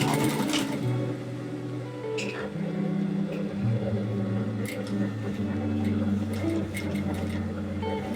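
Sewing machine running steadily while stitching a 3/8-inch seam on a zippered cellphone bag, with a continuous motor hum and a few brief pauses and speed changes.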